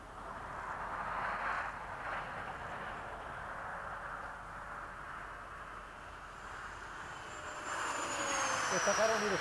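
An L-39 jet trainer passes by, a broad rushing engine roar that holds steady and swells louder toward the end, heard from some distance.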